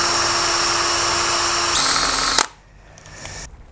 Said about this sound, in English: So if I drill one on the other side in the same place